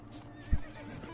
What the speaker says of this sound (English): Excuse me, wild horses! I'm talking.